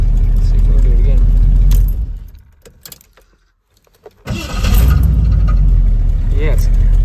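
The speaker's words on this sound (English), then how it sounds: "it's making a weird clicking sound now" Starter on a long-tube-header Ford 351W cranks in freezing, snowy weather with a loud chugging whir, drops briefly to near silence with a few faint clicks, then cranks hard again; a person speaks over it.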